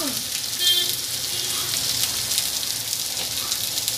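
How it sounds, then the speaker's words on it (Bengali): Potato pieces sizzle in hot oil with salt, a continuous close crackling hiss that stays even throughout, while preparing an egg curry. "এবার যাতে আলুটা আমার তাড়াতাড়ি ভাজা হয়ে যায় তাই আমি এতে দিয়ে দেবো স্বাদ মতো নুন।"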